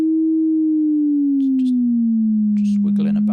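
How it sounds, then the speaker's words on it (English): A steady pure sine tone hums and slowly glides downward in pitch, with brief clicks and a short burst of speech near the end. "So let's start with a sine wave again because it's easy."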